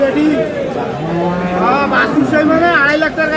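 Quality cows and calves moo loudly at the Aftabganj cattle market in Dinajpur, with several overlapping drawn-out calls close by, while market voices murmur underneath.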